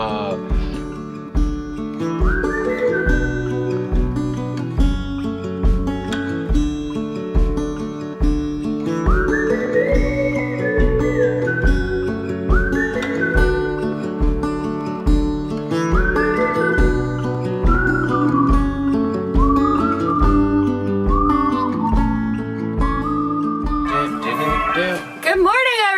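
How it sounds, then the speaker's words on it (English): Tinny phone hold music from an internet provider plays continuously at steady loudness, a whistly electronic melody over a repeating beat with no talking over it. "If you hear some weird music in the background, we're just on hold with our web provider for our tea business."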